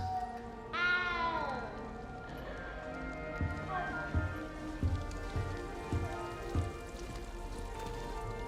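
A single cat meow with a falling pitch in Hogwarts Legacy sounds early, followed by a steady patter and soft periodic thuds under game dialogue.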